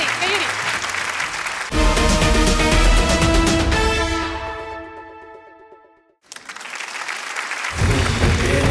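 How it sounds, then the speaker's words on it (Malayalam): Audience applause at a comedy stage show, a loud burst of clapping that swells, fades out to near silence, then returns strongly, with music and voices mixed in. "കയ്യടി വേണം. കയ്യടി"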